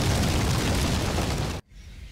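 A gas station blows up in Gears of War, a loud, dense roaring blast that fills the moment and then cuts off abruptly into a quiet tail.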